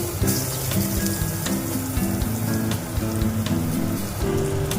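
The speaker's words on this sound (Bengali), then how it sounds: "মাছগুলো ভাজা হয়ে গেছে, এবার আমি ওই তেলেই বেগুনগুলো ভেজে নেব।" Eggplant pieces seasoned with salt and turmeric fry in the oil left from frying pomfret fish, giving a loud, continuous close-up sizzle over a low steady hum, with no voices.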